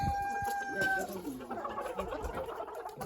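Chickens cluck close by, with a rooster's crow at the start, followed by soft clucking and scratching sounds from the flock.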